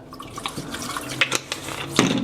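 Extra dark walnut wood stain is splashed into a mix with toner while refinishing a large round dining table, giving a close, light trickle with small drips and a brighter splash near the end.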